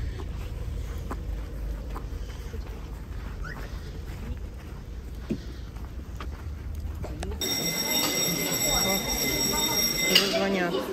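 A ringing bell calls the audience into a theater hall, a sustained bright electric ring starting partway through and lasting a few seconds, heard over crowd murmur and footsteps after outdoor walking noise.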